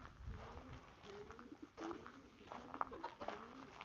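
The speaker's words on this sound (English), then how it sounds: "I can hear doves cooing." Doves coo softly in a quiet rural village near the King's eco-friendly country retreat, several low repeated calls from somewhat far off over faint outdoor ambience.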